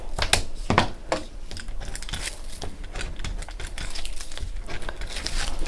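Sticky tape pulled from a roll and torn into three pieces during a papercraft card-making session, heard as close, repeated crackly tearing and rustling bursts with no talk.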